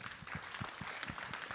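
An audience at a web program festival award ceremony claps, a dense, steady patter of many hands heard faintly from a distance across the whole moment.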